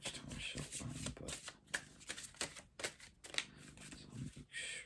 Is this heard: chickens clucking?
no